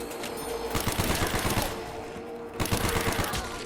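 Rapid gunfire from Call of Duty Black Ops 1 Zombies on the Kino Der Toten map, with dense bursts of automatic shots fired in quick succession, close and loud, under a layer of game ambience.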